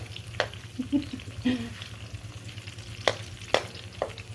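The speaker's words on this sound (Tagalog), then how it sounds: "igisa nato atong mga lamas. Garlic, gisa sa garlic." Garlic sautés in hot oil in a pan, giving a soft steady sizzle with a few sharp utensil clicks and stirring scrapes, close by and without talk.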